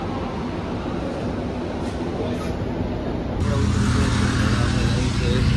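Steady rumbling of a moving metro train with a whining hum, growing louder and heavier partway through, heard from inside a nearly empty carriage.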